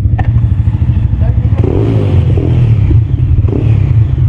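A motorcycle engine revs loudly and close, its deep rumbling idle swelling in brief throttle blips while someone talks over it.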